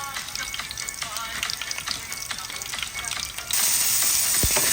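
Garlic, onion and ginger fry in a pan with a steady, loud sizzle and crackle throughout, turning brighter and more intense near the end as more ingredients go in.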